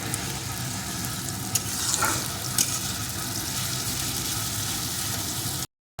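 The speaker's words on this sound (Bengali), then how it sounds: "এখন পেঁয়াজ কুচির সাথে মশলাটাও বেশ কিছুক্ষণ ভেজে নেব" Chopped onion and spices frying in a pan for a loitta fish dish, a constant close sizzle with a few brief scraping clinks, alone until the sound cuts out near the end.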